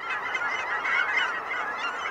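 A huge flock of Canada geese honks in flight over wetlands, a dense, continuous chorus of overlapping calls at steady loudness with no talking.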